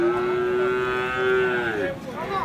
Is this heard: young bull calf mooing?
yes